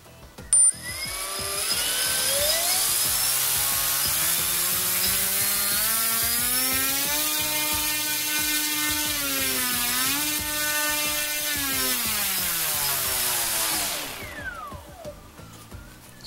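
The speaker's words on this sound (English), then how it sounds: "Still running a 10-inch 4x5 prop, 20-amp ESC, and we're going to run it up." Sunnysky V brushless motor turning a 10-inch 4x5 propeller on a 20-amp ESC and 4-cell battery during a thrust test, spooling up to a loud, steady high-pitched whine that holds, rises and falls slightly, then winds down near the end.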